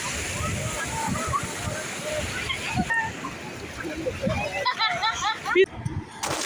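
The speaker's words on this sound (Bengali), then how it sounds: "তারপরে বিশাল বড় বড় ঢেউয়ের কি আওয়াজ, অনেক আওয়াজ" Big sea waves at Sugandha beach, Cox's Bazar, make a broad, rushing surf with sloshing water, heard close and continuous beneath people talking.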